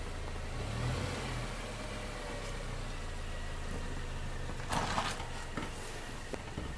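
A Subaru all-wheel-drive car sits on test rollers, its engine humming steadily and rising a little under throttle, joined by clunking mechanical sounds near the end.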